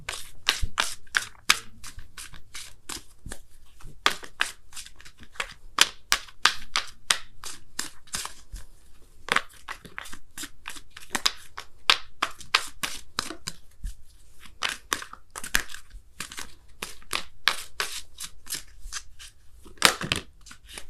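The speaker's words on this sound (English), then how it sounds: "I'm going to pull you guys a Wisdom of the Oracle card as well" Wisdom of the Oracle cards being shuffled by hand, a close run of quick, crisp riffling snaps and flutters in irregular bursts with short pauses.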